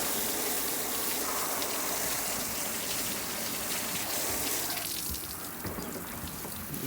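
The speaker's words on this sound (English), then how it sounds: "Give it a quick little rinse off there." A garden sprayer rinses a cleaned model train with water, a steady close hiss of spray and splashing that continues throughout and eases slightly toward the end.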